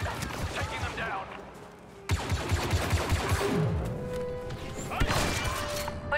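Blaster fire in Star Wars Battlefront 2 during the battle of Endor campaign, heard as rapid bursts of sharp zapping shots across loud combat, with voices heard over the fighting.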